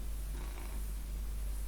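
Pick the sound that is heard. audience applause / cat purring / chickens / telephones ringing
cat purring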